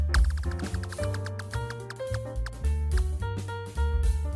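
A prize wheel in the F1 26 racing game spins with rapid ticking clicks that gradually slow, set against a loud backing music track.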